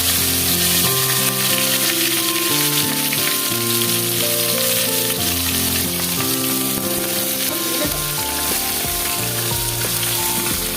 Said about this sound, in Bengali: এবার সবজিগুলো সব ভেজে নেবো একসাথে এক এক করে ফুলকপি ফুলকপিগুলো দিয়ে দিচ্ছি